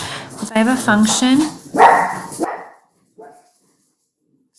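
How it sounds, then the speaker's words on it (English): A dog barks several times close by in a home while a man lectures; the barks overlap and follow his speech, then a faint single yip sounds after a pause. "sorry, that's my dog."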